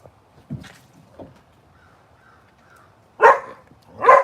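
A dog lets out a single sharp bark, followed after a pause by two louder, closer barks near the end, with quiet between them.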